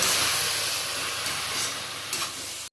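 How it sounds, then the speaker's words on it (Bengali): Jute leaves (pat shak) frying with browned garlic in a pan, a dense continuous sizzle and hiss with soft stirring, close and steady, fading at the end. "শাকটা ভাজা হচ্ছে"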